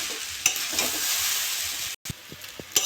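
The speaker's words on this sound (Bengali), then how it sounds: "মশলাটা দিয়ে নিয়েছি এবং ভালো করে নেড়ে ফেড়ে নেবো নেড়ে ফেড়ে একটু ভেজে নেবো" Chowmein seasoned with Maggi masala sizzles loudly in a pan while a spatula scrapes and taps through it, a dense, close frying hiss broken by a brief silence, with no one speaking.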